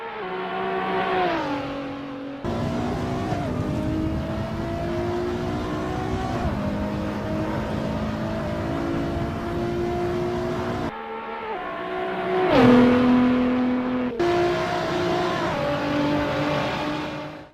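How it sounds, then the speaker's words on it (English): A 2021 Nissan GT-R50 engine in Assetto Corsa roars through rising revs and sharp gear shifts, a loud, continuous drone that dips and climbs with each change. "So this is the Nissan GTR 50 from 2021 by Daniel Dye."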